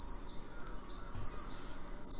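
A kitchen timer goes off for chili that is done cooking, giving high, piercing electronic beeps in two long tones with a short gap between them, heard over a soft room hum.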